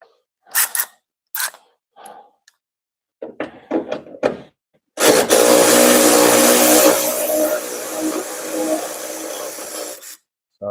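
Engine of an MR6 car revving hard for about five seconds, a loud sustained roar that then holds and trails off, after several sharp knocks and clicks like a door or hood being handled nearby.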